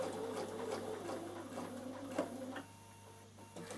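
A Bernina sewing machine stitches a curve with a steady, fast mechanical whir and rapid needle ticking, recorded close and fairly quiet, easing off near the end as the fabric is turned.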